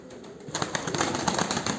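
Pigeons stirring after a feeding, with a burst of wing flaps and soft cooing rising after a quiet start and carrying on busily and fairly close, with no talk.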